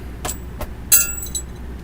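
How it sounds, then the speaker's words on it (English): A small metal ring falls onto a hard surface, giving a few brief, bright clinking taps with one sharp ringing hit in the middle. The taps are close and alone in a quiet room. "It was my Lord of the Rings ring. It fell."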